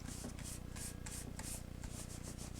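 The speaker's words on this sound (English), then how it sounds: "A little sticky on there too. I want to rub off." Steady, quiet rubbing as a fingertip works sticky adhesive off a paper card base for handmade cardmaking, a continuous soft scrubbing with rhythmic strokes close to the mic.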